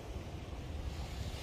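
Sea waves and wind at a shore make a steady, broad roar with buffeting wind noise on the microphone, loud and close with no voices.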